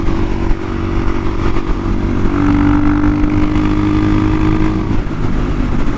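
A 450 dirt bike converted to a supermoto, riding on a road, its engine droning loud and close at steady revs with a rising tone and a brief dip near the end.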